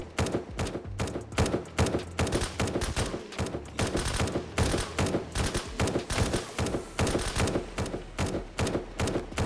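Rapid, sustained gunfire aimed at a horde of zombies in the survival game Surroundead, dense bursts of shots rattling continuously and loudly throughout with thuds mixed in.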